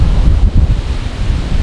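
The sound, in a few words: wind blowing by the sea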